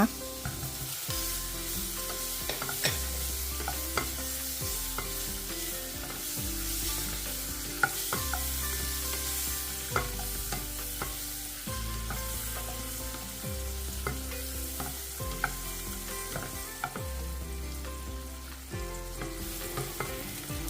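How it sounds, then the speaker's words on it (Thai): Steady sizzling of sausages frying in salted butter in a pan, a continuous crackling hiss with occasional stirring scrapes, close and unbroken throughout. "จากนั้นก็ต่อด้วยทอดไส้กรอกเลยค่ะ ใส่เนยเค็มลงไปแล้วตามด้วยไส้กรอกเลยนะคะ"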